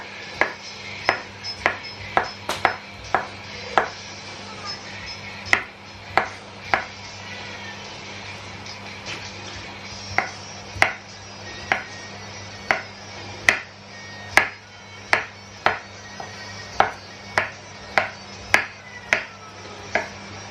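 A knife slices smoked sausage into small diagonal rounds for a Cajun chicken pasta, giving about twenty crisp, evenly spaced chops on a board, close and clear over a low steady kitchen hum.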